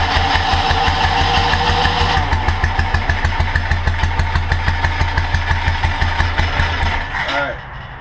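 A monster trike engine runs rough and loud while flooding out after a carburetor rebuild, its fast uneven firing pulses sputtering and fading before it dies near the end.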